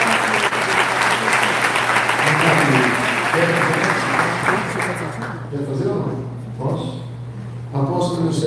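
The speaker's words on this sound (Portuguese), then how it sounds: "Aplausos do Senhor." Applause fills a church congregation for about five seconds, dense and steady, then thins out as voices and a steady hum continue beneath, with speech returning near the end.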